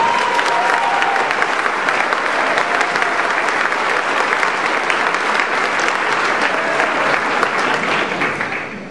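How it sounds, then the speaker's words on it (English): A large dinner crowd at a Democratic Party event breaks into sustained, dense applause that holds steady and loud for nearly nine seconds before tapering slightly at the end. "Let's give them a big round of applause."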